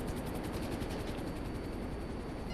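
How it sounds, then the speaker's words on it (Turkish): A video game helicopter's rotor in GTA 5 drones loudly and continuously, a steady rhythmic thrumming with no voices. "Oh helikopter çarpıyor musun lan?"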